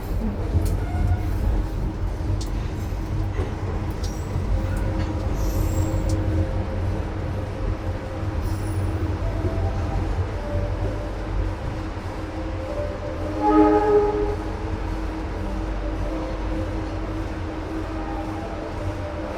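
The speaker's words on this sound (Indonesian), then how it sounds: "kereta api Dharma Wangsa telah tiba di stasiun Semarang Poncol" Dharmawangsa passenger train pulls into Semarang Poncol station with a steady rumble of wheels on rails and some brief squeals, heard close from on board without talk.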